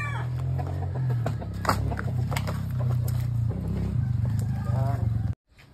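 A rooster clucks repeatedly at close range in a rural yard, brief rough calls recurring through the clip over a steady low rumble, with people talking nearby before it cuts off.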